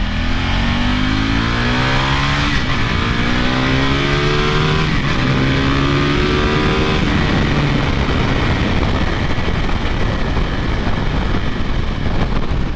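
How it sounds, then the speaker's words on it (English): A 2015 KTM RC8 1190R sport bike's engine revs hard and close, rising in pitch through the gears with brief dips at the shifts, then settling into a loud, steady roar with heavy wind noise. "this bike has a lot of bottom end grunt"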